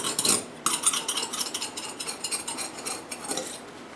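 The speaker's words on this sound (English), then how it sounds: "My lovely little spatula, I'll just go around the sides" A spatula working around the sides of a tart pan for a fruit tart, a rapid run of close scraping taps and clinks that fades near the end, with no talking.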